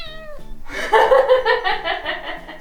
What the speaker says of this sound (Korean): 우리 코코 행복하면 야옹해